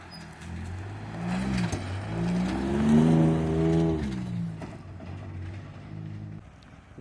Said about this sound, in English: So, yeah, we might just very well drive up this trail.